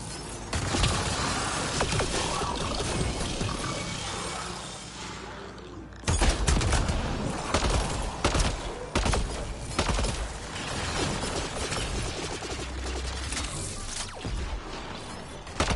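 Sustained gunfire in the sci-fi shooter Mass Effect Andromeda, dense rapid shots and impacts filling the whole stretch, with a sharp loud burst about midway and voices talking over the combat.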